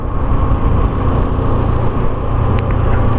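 A Dafra NH 190cc motorcycle accelerates, its engine giving a loud, steady low-pitched drone mixed with road and wind rumble, with no one speaking.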